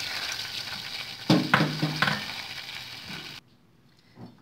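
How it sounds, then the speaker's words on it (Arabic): Butter melts and sizzles in a pan, a soft steady frying hiss with a few louder bursts of crackle and stirring, ending abruptly. "الزبده هي هذه بدات كتذوب"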